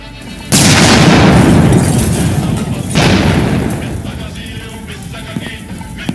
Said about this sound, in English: You explode.